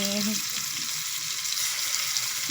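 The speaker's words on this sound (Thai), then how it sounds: "เครื่องในสุกได้ที่แล้ว แล้วก็ใส่ผักค่ะ" Vegetables drop into a pan of frying chicken offal and are stir-fried, giving a steady loud sizzle with a brief clatter at the start and no talk over it.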